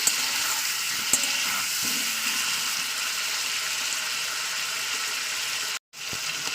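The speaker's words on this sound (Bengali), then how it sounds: "আমি তো হাই ফ্লেমে আমি পুরো পাঁচ মিনিট ধরে চিকেনটাকে ভেজে নিয়েছি" Chicken fries in a pan over a high flame, giving a loud, continuous close-up sizzle with a few faint utensil knocks, a brief cut-out near the end, and no talking.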